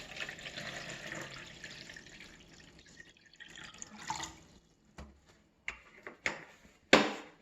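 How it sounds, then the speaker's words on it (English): Purified water is poured into a humidifier's water container, starting as a steady trickling stream and then breaking into separate drips and splashes that grow sparser toward the end, close up and fairly quiet. "we'll go ahead and fill it up with purified water"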